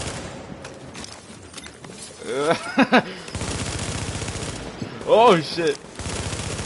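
Submachine gun fire in a video game, rapid dense bursts of automatic shots in stretches, with short exclamations from a player between them.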